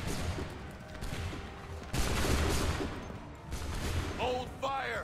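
Massed musket volleys in Assassin's Creed III, rolling bursts of gunfire that crackle and echo in several waves, with shouted voices and calls rising over the shooting near the end.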